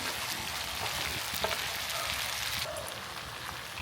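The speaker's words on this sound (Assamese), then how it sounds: "যেতিয়া এনেকৈ তেলটো ওলাব তেতিয়া আমি ইয়াত আলু দিম। এতিয়া দি দিম আলু" Potatoes are added to chicken frying in its own released oil for a local chicken curry; a steady close sizzle with a few clinks and stirring, then a sharper hiss as the pieces go in.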